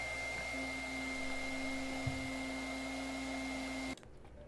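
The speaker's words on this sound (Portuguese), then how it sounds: "Enquanto a água ferve no fogão, você vai com o secador." A hair dryer defrosts the freezer of a Brastemp BRE50N refrigerator that is not cooling, giving a steady, loud whirring blow with a faint tonal hum, then cutting off abruptly near the end.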